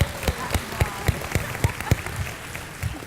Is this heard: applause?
yes